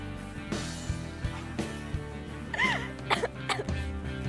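A few short coughs and throat clears, close by, with soft breathy sounds between them.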